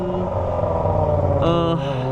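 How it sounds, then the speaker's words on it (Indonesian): Kawasaki ZX25R motorcycle fitted with a Toce exhaust, its engine running steadily close by with a dense, continuous drone and a brief rise in pitch near the end, as if the throttle is opened while riding. "Akhirnya sekarang gue pakai knalpot Toce lagi"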